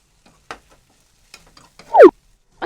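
Okra is stirred with salt in a pan, heard as sparse, close scrapes and scuffs of a utensil with a louder swipe near the end, separated by quiet gaps.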